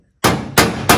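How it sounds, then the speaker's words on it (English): Hammer striking a center punch on a steel brace during a VW Bus Subaru engine swap, three loud ringing metallic blows close up, with the first two evenly spaced and the third following quickly. "banging a center punch hole so my drill"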